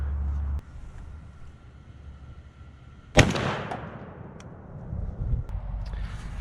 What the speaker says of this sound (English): I got the Federal 3-inch 15 pellet double aught in there. And since I already had the Rectifier in, I'm gonna just go ahead and shoot it